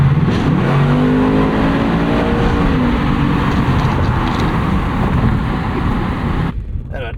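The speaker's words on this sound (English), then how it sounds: "I love the thumpiness of this 5-liter. It's just a big, gurgly, all-American V8." A 2024 Ford Mustang GT's 5-liter V8 runs loud and close, a deep, gurgling, thumpy drone held steady for several seconds before easing off near the end.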